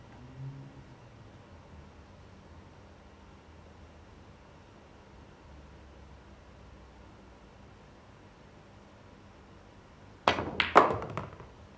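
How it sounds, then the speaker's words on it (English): A pool cue strikes the ball in a professional Predator Championship League match, with the ball screwing back off the top rail: a near-silent hall, then a sharp crack followed by several quick knocks. "Dead straight, screwing it all the way back off the top rail with a bit of spin."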